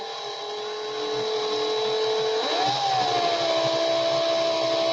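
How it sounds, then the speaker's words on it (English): A power drill runs in reverse with a steady electric whine that rises in pitch partway through as it speeds up, close and continuous over a faint hum. "I put my drill in reverse because I did my D-core in the forward."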